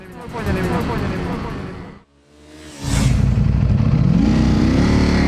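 A 2022 Ducati Panigale V4S sportbike roars loud and close under hard acceleration, briefly dips to near quiet, then surges back into a sustained rising howl with wind rush. A rider's voice is mixed in.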